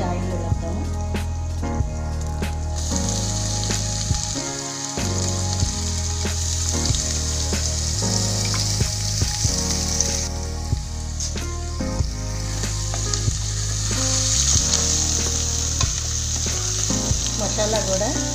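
Ground ginger, garlic, coriander and cumin masala paste fries loudly in hot oil in a home kitchen, a dense continuous sizzle with occasional stirring scrapes, close and steady throughout.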